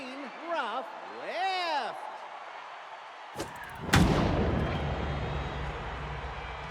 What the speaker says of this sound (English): Every time I hear that, it's like a cannon blast when you make contact.